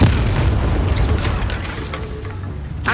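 The Incendio fire spell cast in the Hogwarts Legacy video game, a loud booming burst of flame that rumbles heavily and fades, with a sharp crackling flare near the end.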